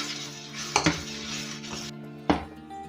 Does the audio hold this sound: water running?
no